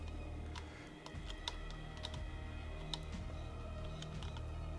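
Computer keyboard keys clatter in quick irregular taps during play of the Call of Cthulhu game, faint and close, with no talking.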